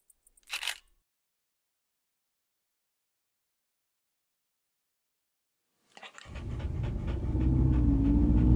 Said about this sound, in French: c'est une chienne que j'ai adoptée à la fin de l'hiver